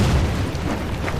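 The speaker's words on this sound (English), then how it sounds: "Let's start hitting that with the artillery." Artillery shells landing on heavy infantry in a strategy video game, a dense, rumbling burst of booms with strong low end, continuous and loud across the moment.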